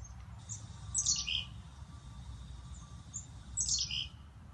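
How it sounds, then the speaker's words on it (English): Chickadees give short, garbled high chirps in two brief clusters, fairly faint over soft low background noise. "Chickadees also make a kind of a garbled sound"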